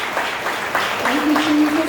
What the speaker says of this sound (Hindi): हम जोरदार ताली बजाएं परमेश्वर की आत्मा के लिए